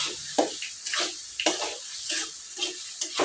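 Water splashes and pours into a pan for aloo curry gravy in a home kitchen, arriving in short irregular gushes with faint sizzling between them, close and fairly quiet.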